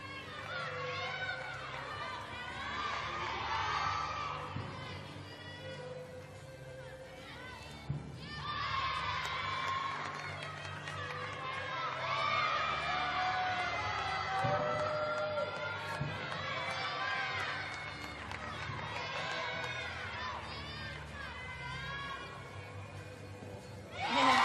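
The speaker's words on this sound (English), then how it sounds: "The crowd getting into it here" A crowd at a college gymnastics meet between Illinois and Michigan cheers and shouts loudly in sustained waves, with excited children's voices mixed in and chatter throughout.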